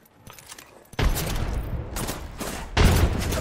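Rapid bursts of suppressing gunfire in Apex Legends, loud dense volleys starting after a quieter opening and returning in waves.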